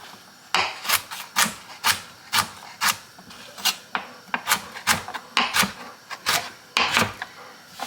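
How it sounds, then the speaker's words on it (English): A knife saws through cauliflower for roasted cauliflower soup, making a run of close, crisp rasping cuts in an uneven rhythm, each stroke ending with a dull tap on the board. "And then just cut this in little pieces."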